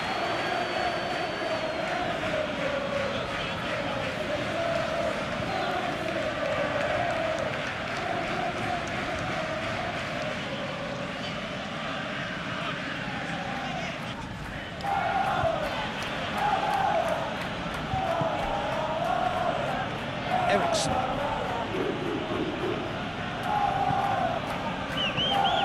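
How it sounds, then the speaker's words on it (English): Football crowd at a Birmingham City v Manchester United match, a steady distant roar of spectators murmuring and calling out, swelling briefly partway through. "at least the crowd are appreciative of his efforts"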